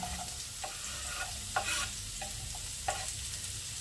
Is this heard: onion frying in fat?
yes